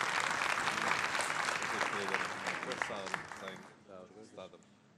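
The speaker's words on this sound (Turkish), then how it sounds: "Bir sıcak alkış bu güzel münasebetle." Warm applause from a concert audience fills most of the clip, then thins out as a voice speaks over the fading clapping during a plaque presentation.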